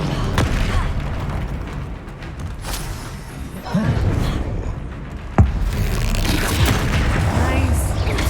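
Confringo spell explosions in the video game Hogwarts Legacy during a troll fight, loud booming blasts and thuds with a sharp impact near the middle, under a continuous rumble of game effects.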